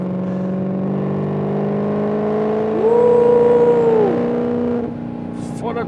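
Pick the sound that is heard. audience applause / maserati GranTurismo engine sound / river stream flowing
maserati GranTurismo engine sound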